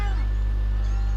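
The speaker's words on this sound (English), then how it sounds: "There's a cat." A cat meows once inside the video game What Remains of Edith Finch, a short, close mew over a steady low ambient hum.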